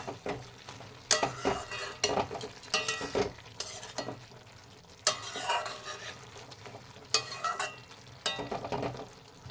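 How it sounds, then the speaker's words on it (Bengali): A spatula stirring a potato, brinjal and prawn curry in a pan, with irregular scrapes and knocks against the metal over a soft sizzle, close by and with no talking. "আলু এখানে সেদ্ধ হয়ে গেছে, একটু নেড়ে নেব।"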